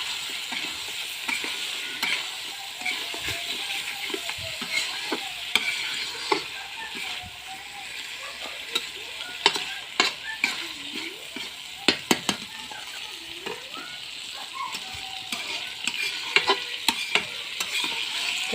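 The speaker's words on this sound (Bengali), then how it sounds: "এটাকে মিক্স করব ভালো করে" Mutton cooked with chickpea dal is stirred in a pan over a clay stove, giving a constant sizzle broken by irregular spoon scrapes and metallic clinks against the pot, close by and with no talking.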